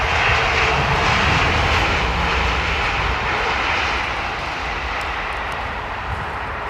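A loud, steady jet roar from an airliner landing at London Heathrow, a broad close rumble that eases slightly as it slows down the runway.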